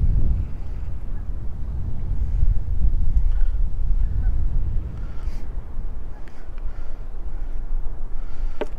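Cold wind gusting steadily across an outdoor pike-fishing spot at a recreation area, a broad low rumble of buffeting on the microphone that holds throughout, with a faint goose-like honk or two in the distance.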